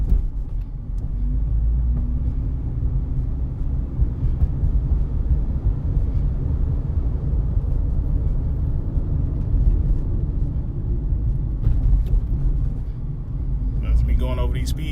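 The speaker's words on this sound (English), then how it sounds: "Going over these speed tables." A 2012 Mitsubishi Outlander Sport ES rolls over large speed tables, giving a steady low road rumble and engine drone throughout with faint thumps and no talking.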